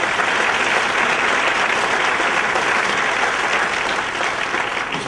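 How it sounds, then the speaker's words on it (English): A luncheon audience gives David Bassett a round of applause, a loud, dense and continuous wash of clapping from many hands that holds steady throughout with no talking over it. "You guys give David Bassett another round of applause."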